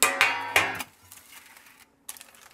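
A small metal baking pan is handled up close, giving three quick clanking knocks, then a quiet pause and one more rattle.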